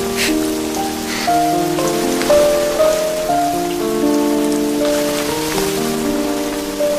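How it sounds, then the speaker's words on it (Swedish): Steady autumn rain patters continuously on surfaces in an island setting, sitting under a sustained melodic music score with no talking. "Här är regnet."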